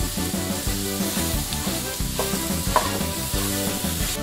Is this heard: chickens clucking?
no